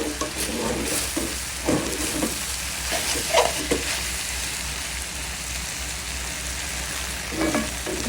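Okra frying in a pan, a soft steady sizzle with scattered crackles and a few spatula stirs and taps against the pan, close and fairly quiet.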